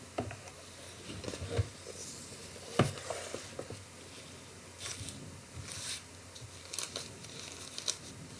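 An empty cardboard product box for tech gear being folded up by hand, soft close crinkles, creases and taps scattered irregularly over a quiet background, with no talking.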